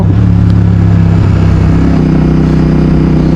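Royal Enfield Continental GT motorcycle engine labouring uphill toward a 19,000-foot pass with thin air, a loud, steady low-pitched thrum running close and continuous throughout, no voices.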